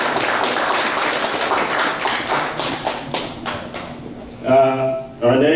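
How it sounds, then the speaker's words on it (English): A crowd at an awards ceremony applauds steadily, dense clapping sustained before a brief voice breaks in near the end. "let's give a nice round of applause for Neville, the rescue dog."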